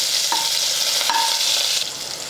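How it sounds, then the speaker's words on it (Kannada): Chopped garlic and curry leaves fry in oil with a constant close hiss, two brief ringing utensil taps partway through, and the sizzle drops slightly in level near the end. "ಇದೆಲ್ಲ ಫ್ರೈ ಮಾಡ್ಕೋತೀನಿ ಎಣ್ಣೆ"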